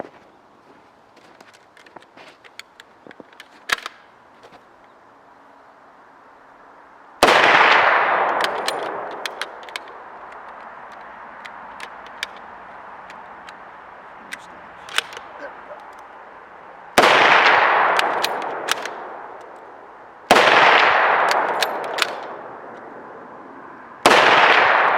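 Several loud outdoor shots from a Gew 88 rifle firing reloaded cartridges are spaced many seconds apart, each a sharp crack with a trailing echo, with metallic clicks and handling noises between them.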